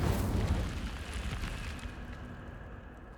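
The Incendio fire spell in Hogwarts Legacy lands as a loud whooshing burst of flame that starts strong and fades into a crackling, rumbling tail over a few seconds.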